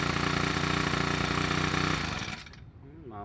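A Honda GX35 small four-stroke engine that had sat unused for three months, running with a steady buzzing drone before sputtering and dying out as the choke is lowered, followed by a quiet voice.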